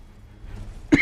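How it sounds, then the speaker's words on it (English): A single short, sharp cough from a person near the microphone, coming abruptly after a quiet stretch of low background noise. "Sorry if my cough is like blowing out eardrums."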